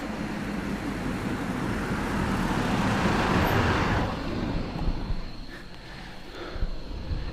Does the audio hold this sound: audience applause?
no